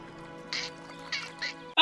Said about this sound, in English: Ah, turtle duck!